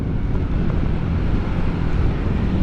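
A motorcycle fitted with a loud aftermarket Rob1 exhaust gives a steady, deep, booming rumble at close range, held throughout without any talking.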